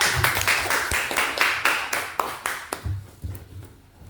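Students in a classroom clap in a loose, uneven rhythm of distinct claps, close and fairly loud at first, then slowing and thinning to scattered claps as it fades out.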